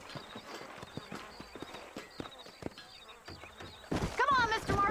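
Horses clip-clop steadily across the ground in the western video game Red Dead Redemption, hooves thudding in a regular rhythm before a sharp whinny and louder commotion at the end.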